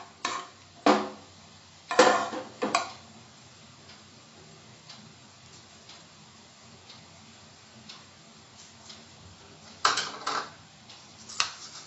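Whole spices, cloves and cinnamon, are stirred in a pan for Punjabi dal tadka, giving sharp clinking taps in loose clusters over a quiet low background.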